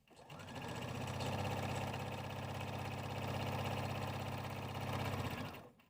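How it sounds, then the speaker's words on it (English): A sewing machine hums steadily for about five seconds while sewing the edges of a tote bag lining, the motor starting and stopping cleanly with no talking. "we're going to step to our machine and sew our edges"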